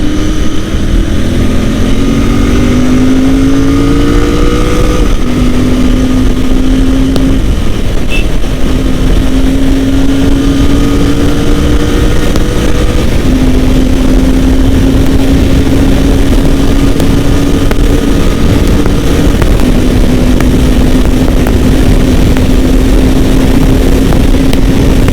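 A Royal Enfield GT 650 motorcycle, heard from the rider's position, pulls hard through the gears, its engine note rising and holding steady between shifts under loud, continuous wind rush.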